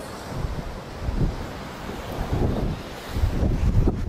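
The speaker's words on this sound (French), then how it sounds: "ça, c'est la mer, c'est les vagues" Rough, stormy sea with waves surging under strong wind, a steady roar with swelling bursts and wind buffeting the microphone throughout.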